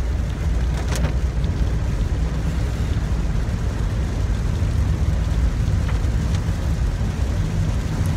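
Steady rain heard from inside a moving car, a continuous broadband wash over a deep road rumble that carries evenly throughout with no voices.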